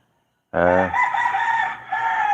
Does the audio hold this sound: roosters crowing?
yes